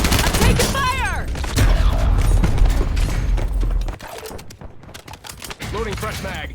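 Gunfire in the video game Warzone, with dense bursts of rapid shots and booms that ease off partway through, while voices talk over the action.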